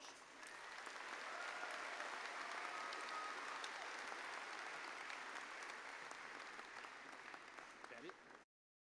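Sustained applause from a large audience honoring graduates at a university spring commencement ceremony, an even, dense wash of clapping lasting several seconds before cutting off abruptly, heard at a distance.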